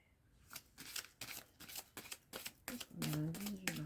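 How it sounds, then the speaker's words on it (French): Tarot cards are shuffled by hand in a quick series of riffling, flapping bursts, close and fairly quiet, with a soft voice in the background toward the end. "On nous dit de brasser."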